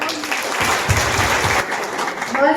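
A crowd at a Rajput community women's conference claps enthusiastically, dense applause that swells and stays loud throughout.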